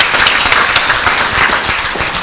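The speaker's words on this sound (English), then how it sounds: "Let's give them a applause for that Governor's Hometown Award" An audience at a 2019 State of the Village address claps together in a dense, steady wash of applause for a Governor's Hometown Award, heard alone without talk.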